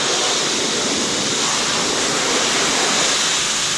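Water sprays hard onto a car at a car wash, making a loud, steady, broadband hiss that runs unbroken and close for the whole stretch, with no voices.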